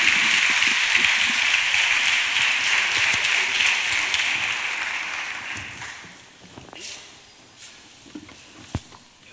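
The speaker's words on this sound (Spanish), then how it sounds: "Un fuerte aplauso para Juan González." Loud crowd applause at the 2024 Bornos carnival proclamation rings out, then fades away over several seconds, leaving scattered claps and room noise.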